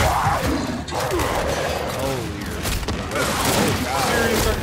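Gunfire crackles through a firefight in the video game Gears 5, repeated bursts and booming impacts mixed with game effects, while a voice talks over the action.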